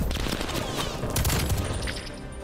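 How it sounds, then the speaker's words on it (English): Dense rumbling explosions and crackling blasts from a napalm strike in Call of Duty Black Ops Cold War multiplayer on PS5, a continuous loud barrage lasting the whole moment, with faint voices mixed underneath. "Napalm strike incoming"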